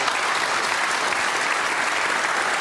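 A snooker crowd at the English Open applauds a century break, steady sustained clapping filling the hall at moderate volume with no talk over it.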